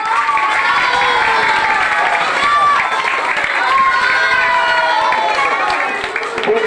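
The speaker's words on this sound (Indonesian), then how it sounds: "tepuk tangan bersama" An audience at a religious talk in a Palembang madrasa claps together, with steady clapping under loud, overlapping voices and shouting, likely children, lasting several seconds.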